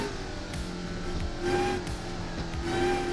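A race car in a driving video game understeers, its engine droning steadily with rising and falling revs, shifting gears, and brief tire squeals, loud and continuous with no speech.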